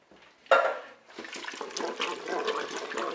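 Broth and then canned peeled tomatoes are poured into a Cookeo multicooker, a brief splash followed by a steady, gurgling liquid pour with slight clatter from the pot, close and without talk.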